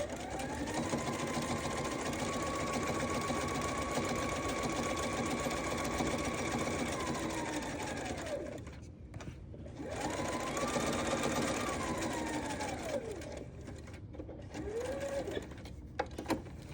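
A sewing machine stitches a pocket on a fabric zippered bag, running in long steady bursts with brief pauses and a short back-stitch, close and continuous, a voice faintly present.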